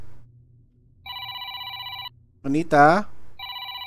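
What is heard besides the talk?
telephone ringing in a horror video game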